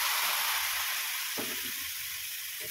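Water poured into spices frying in a pan for Bengali jhinge aloo posto (ridge gourd and potato in poppy seed paste) gives a steady close sizzle and steamy hiss with a few brief bursts, no voices.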